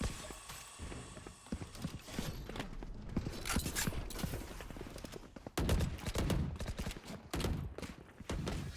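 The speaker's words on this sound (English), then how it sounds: "Sounds like some pot shots are being taken, but no eliminations at this point." Scattered gunshots crackle through a youth esports video game match, irregular pops and bursts mixed with rapid footstep-like clatter and busy in-game noise throughout.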